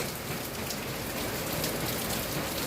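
Steady, dense rainfall pours down continuously, a loud even hiss of drops striking surfaces with no voices.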